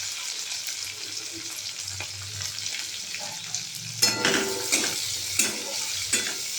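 Chilli, garlic, onion and five-spice tempering frying in oil in a pan, a steady sizzle that grows louder and crackly midway, with a few metal clinks of stirring and no voices.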